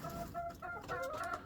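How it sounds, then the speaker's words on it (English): Jubilee Orpington rooster making a run of throaty clucks and calls nearby, steady and fairly close with no talking. "I got the Jubilee rooster right there."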